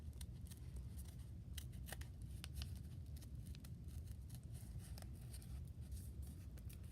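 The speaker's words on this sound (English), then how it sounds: "I'm going to fold this back and I'm going to cut this out." Scissors snip steadily through folded paper while a paper snowflake is cut out, a dense run of quiet crisp clicks and rustles over a low background hum, with no talking.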